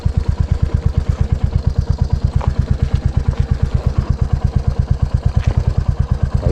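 A motorcycle engine running on a slippery mountain road, a loud, close, rapid thumping pulse at a steady idle-like rhythm with faint clatter and occasional small knocks above it, no voices.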